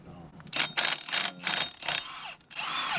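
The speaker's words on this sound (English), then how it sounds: "Helps to have a gun, impact." An impact gun rattles off the flywheel bolts of a Ford 4.6 DOHC Cobra engine during a rebuild, with about five short, loud, close bursts of hammering whir separated by brief pauses.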